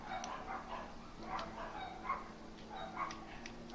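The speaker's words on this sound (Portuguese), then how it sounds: "O cachorro tá latindo um desgraçado lá fora." Dog barking outdoors in the video game Sally Face, a series of faint, distant yips and barks repeating over a steady ambient background.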